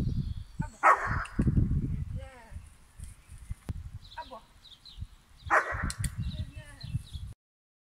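A dog barks on command, giving a few short barks and yips amid a person's voice, with bursts of barking separated by quieter moments.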